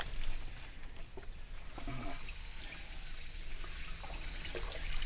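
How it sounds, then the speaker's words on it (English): Mountain spring water fed by rain and filtered through forest in rural China trickles in a soft, steady, even wash, with no voices. "It's spring water."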